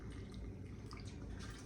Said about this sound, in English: filling it with the fresh boiling water